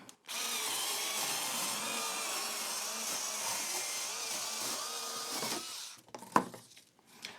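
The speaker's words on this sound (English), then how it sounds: "So if you need to cut cardboard into strips, that could be the attachment for you." A Parkside electric screwdriver fitted with a cutter attachment whirs steadily as it slices cardboard into strips, a sustained close motor buzz that stops abruptly near the end, followed by a few brief handling clatters.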